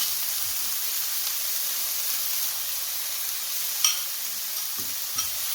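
Sliced onions sauté with garlic paste, ginger paste and curry leaves for a Kerala prawn roast, a soft steady hiss and sizzle with a couple of faint stirring clicks.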